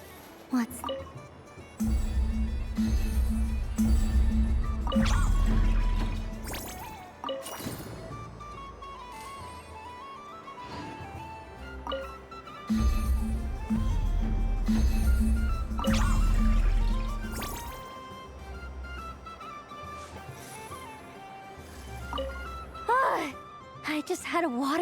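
Water splashes and drips during a playful water fight in the video game Genshin Impact, coming in repeated bursts of liquid squishes and clinks, with character voices talking over much of it.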